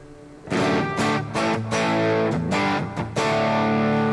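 Electric guitar played through a tube amp emulation plugin set for mild, natural tube distortion rather than high gain, strummed chords ringing with sustained, saturated tone and brief gaps between rhythmic hits, loud and alone.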